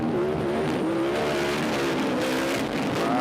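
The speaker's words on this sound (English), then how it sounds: "So that's the Gibbs motor in the new Herbst truck" Gibbs engine in a Herbst off-road race truck at the 2021 Mint 400 unlimited race revs hard and loud and close, a continuous high-pitched roar that holds steady for a few seconds.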